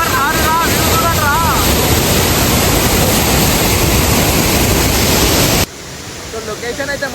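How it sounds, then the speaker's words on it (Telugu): A highway-side waterfall near the Koyida hills outside Hyderabad, swollen after overnight rain, roars as a loud, steady wash of falling water with wind buffeting the microphone, then cuts to a quieter stretch with faint voices. "లొకేషన్ అయితే కోయిడా హిల్స్ దగ్గర హైవే వాటర్ ఫాల్స్ అంట."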